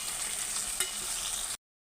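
Tomatoes and green chillies fry for egg biryani, a steady close sizzle in the pan with a single brief stirring scrape, ending abruptly in silence.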